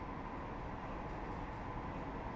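A Class 158 diesel train cruising steadily at speed in Train Sim 2020, a low, even rumble and drone of engine and wheels with no voices.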